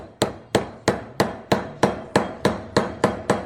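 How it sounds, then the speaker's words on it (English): Steady hammer blows drive a bearing into Ducati Streetfighter clutch parts: eleven sharp metallic strikes at an even rhythm, close and clear, with no talk. "Back at just hammering away."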